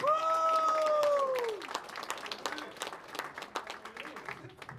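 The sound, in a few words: comedy show audience applause for host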